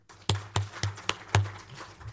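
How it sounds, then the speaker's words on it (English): Conference attendees clap in unison for guests from Canada: five crisp, rhythmic claps at a steady pace, close and fairly loud over a low background hum. "Guests from Canada, let's clap for them."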